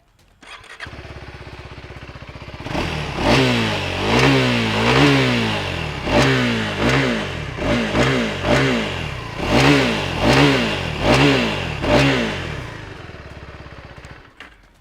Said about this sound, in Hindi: आपको सुनाता हूँ इस मोटरसाइकिल की एग्जॉस्ट नोट को।